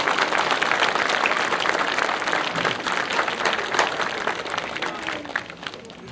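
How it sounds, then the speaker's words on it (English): A crowd claps steadily at a Little League opening day ceremony, honoring coaches, parents and volunteers; dense, sustained applause that stays loud throughout, easing slightly toward the end. "I'd like to have a round of applause for all the coaches, the parents, the volunteers,"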